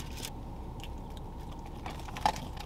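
A person chews food at a casual indoor living-room picnic, with a steady low crunch and a couple of brief brighter crackles near the end against a constant background hum.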